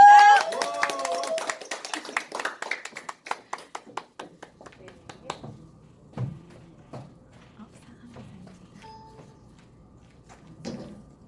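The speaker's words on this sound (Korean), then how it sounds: "소개해드릴 때 뜨거운 박수로 환영 부탁드립니다" A seminar audience claps to welcome a businesswoman to the stage. The clapping starts brisk with a brief voice at the start, then thins out into scattered claps that fade over several seconds.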